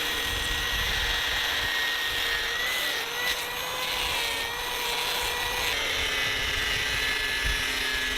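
A chainsaw cuts a long wooden log to size for a porch railing on a handbuilt wooden house, a steady high motor whine running continuously and close throughout.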